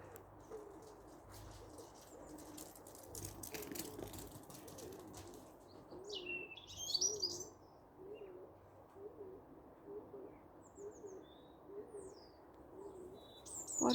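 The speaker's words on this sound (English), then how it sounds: "Beautiful bird song in the morning." Spring morning birdsong outdoors, with repeated soft low coos from doves or pigeons and scattered faint higher chirps and trills against a quiet background.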